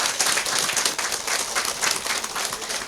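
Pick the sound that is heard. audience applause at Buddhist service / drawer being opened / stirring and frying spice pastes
audience applause at Buddhist service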